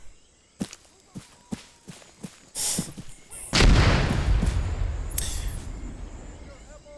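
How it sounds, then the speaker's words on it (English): Japanese mortar fire in ARMA 3's WW2 Pacific Solomon Islands campaign: a run of quick footsteps, then a heavy, close blast that rolls out into a long, decaying rumble, with voices talking around it. "do we find that Japanese mortar before it kills us?"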